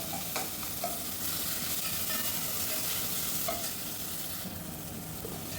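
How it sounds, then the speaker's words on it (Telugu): Chopped tomato sizzles in a hot pan of Kakinada-style crab curry, a close, continuous frying hiss with occasional stirring scrapes and no talking. "ఇందులోని ఒక పెద్ద టమాటా కట్ చేసి ఇందులోని బాగా మగ్గనిద్దాం."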